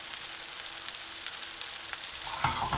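Spicy minced chicken cutlets fry in a pan over medium heat, giving a steady close hiss of sizzling oil with small crackles, which swells slightly near the end.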